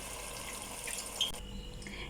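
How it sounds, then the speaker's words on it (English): Boiled sugar beans and their cooking water pour into a pot of tomato-based curry, a steady faint watery rush and splash that continues throughout without speech. "add in your boiled sugar beans with the water that you've boiled it in"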